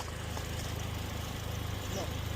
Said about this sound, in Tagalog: Engine na yan, no? Sobrang tahimik, wala nang problem.